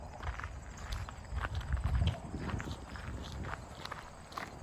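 Footsteps crunch along a hiking trail toward a forest path, a steady, close series of rough, gritty steps over a soft outdoor background.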